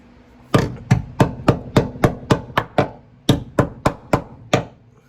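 About fourteen sharp hammer blows strike surface rust on the floor pan under the gas pedal of a BMW E46 drift car, each a close metallic knock in a brisk, fairly even rhythm with a short pause midway.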